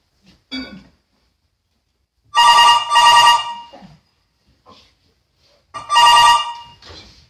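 A telephone ringing with a bright electronic bell tone in three bursts, two close together and one after a pause, loud and near, with brief spoken words in between.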